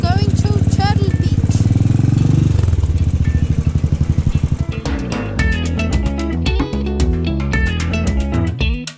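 Royal Enfield motorcycle ridden around Goa, its single-cylinder engine thumping loud and close in a rapid steady beat, then dropping to a slower lumpy idle with clattering and rattling over the second half.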